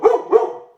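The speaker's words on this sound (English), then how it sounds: "that's our little dog" A small dog gives two quick, loud, close barks in a row, the second trailing off into silence.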